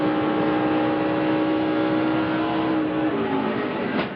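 NASCAR race cars circling the track during a broadcast as a caution comes out for a car spinning off turn 2: a steady, loud engine drone with sustained tonal whine and a brief rising shift near the end.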